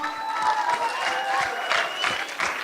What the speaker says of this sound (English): please welcome her on the stage with a big applause